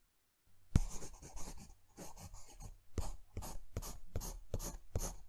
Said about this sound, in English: I'm gonna do the rough sketch now.